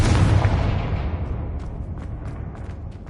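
Confringo blasting spell in Hogwarts Legacy: a heavy, loud explosion bursts at once and rumbles away over a few seconds, with light crackling debris in the tail.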